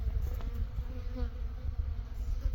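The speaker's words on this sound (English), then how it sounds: "I was surprised that there were so many bees out flying around at that time" Honey bees fly around near their hives, a steady close buzzing drone that holds for the whole stretch with no talking.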